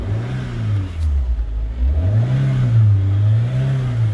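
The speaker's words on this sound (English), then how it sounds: "yep, the engine is revving in there." A Rover MGF sports car engine revs from idle, the low engine note climbing and falling in smooth waves over several seconds, close and steady with no talking.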